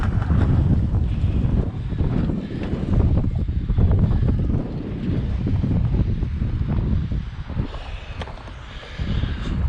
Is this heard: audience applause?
no